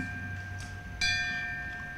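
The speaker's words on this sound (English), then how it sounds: "firefighter David Cristiano will sound 4 sets of 5 bells as the last call." A firefighter strikes a memorial last-call bell at a 9/11 memorial ceremony in Westford, MA. A single clear, ringing strike sounds about midway and lingers over a steady background hum.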